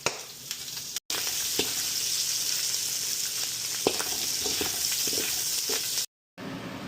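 Garlic and onion sautéing in a pan, a steady close sizzle and hiss with scattered pops and occasional stirring scrapes, broken by two brief silent gaps.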